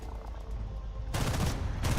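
Machine gun fire in the War Thunder video game: steady engine and battle rumble, then two dense, loud bursts of rapid automatic shots crackle close by.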